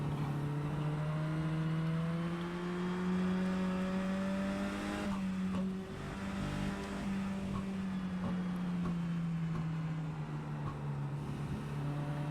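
Race car engines and a pace car droning steadily in iRacing on the Mid-Ohio Short course, a close, loud sustained engine tone holding a near-constant pitch with slight dips, no talk.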